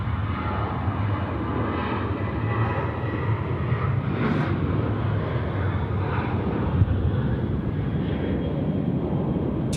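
An aircraft departing runway 16 right at Sydney Airport at night, a steady broad engine roar held at constant loudness for the whole stretch, heard from a distance without speech.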